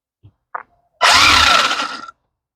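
After a couple of faint clicks, the motor of a Losi Chase Elliott NASCAR RC car spins up at three-quarter power with a sharp, loud electric whine and gear buzz lasting about a second, close by, then stops.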